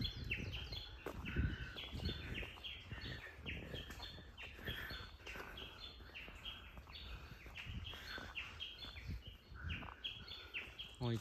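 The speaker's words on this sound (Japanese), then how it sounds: "この鳴き声はすごい。 何の鳥か分からんけど。" Loud, repeated calls of an unidentified bird on Izu Oshima, sharp chirping phrases in quick bursts over a soft outdoor background.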